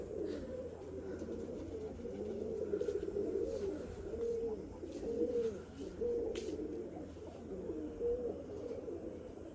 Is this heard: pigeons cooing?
yes